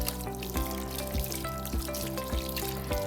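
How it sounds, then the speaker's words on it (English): Water runs steadily from a faucet while hands are rinsed under it, a close, soft, continuous splashing stream with a faint rhythmic pattern and no talk. "Now rinse hands with water."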